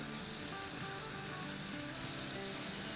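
A tomato fries in a pan of biryani masala, giving a steady, soft sizzle and hiss that stays even throughout, close but low in level.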